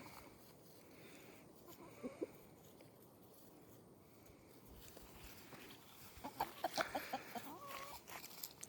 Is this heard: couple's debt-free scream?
no